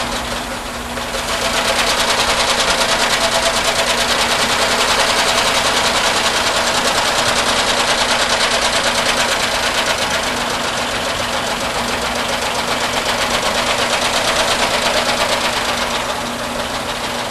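An industrial sewing machine stitches a back strap onto a custom leather boot with heavy-duty waxed nylon thread, a loud, steady, rapid mechanical whir that runs continuously for many seconds, starting and stopping cleanly at either end.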